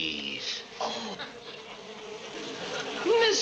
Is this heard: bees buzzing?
yes